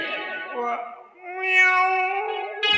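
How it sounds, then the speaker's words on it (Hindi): A cat crying for its kittens gives long, wavering, wailing meows, one sliding down and a louder rising one after it, close and fairly loud with no talk over them. "अरे बिल्ली अपने बच्चों के लिए रो रही है।"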